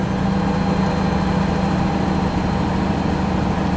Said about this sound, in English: And that's kind of idling a little higher than it was.